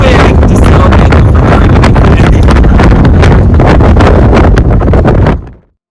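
Strong wind buffeting the microphone at an archaeological site in Anza-Borrego Desert State Park, loud, continuous and roaring throughout before cutting off abruptly near the end.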